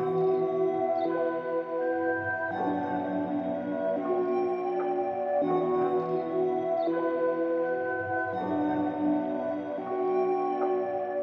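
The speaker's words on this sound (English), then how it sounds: "So as for the flute I'm using, it's just this Ditch Digger preset right here" A synthesized flute preset, Ditch Digger in FL Studio, plays a sustained melody with smooth held notes, steady and clear throughout.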